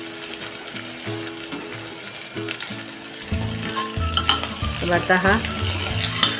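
Cauliflower and onions sautéing in a pan give a steady sizzling hiss, heard under background music with a brief spoken word.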